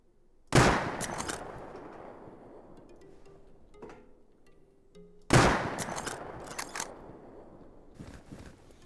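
Two sharp rifle shots of regular ammo ring out in the survival game Rust, spaced about five seconds apart, each a loud crack followed by a long echoing decay, with a faint click between them.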